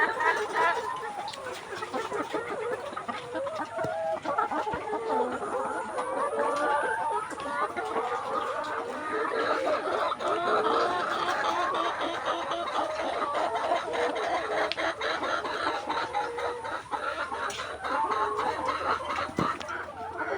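Layer hens on a poultry farm cluck and murmur continuously as a dense flock, a steady busy chorus with occasional sharper calls, heard alongside a person talking.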